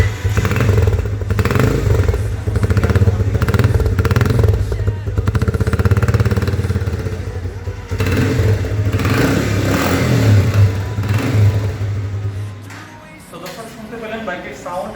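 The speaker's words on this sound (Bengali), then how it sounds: "আপনারা বাইকের সাউন্ড শুনুন" An XL motorcycle engine and exhaust run nearby with a loud, steady idle and throbbing low rumble, a few revving swells, then the engine noise drops away near the end.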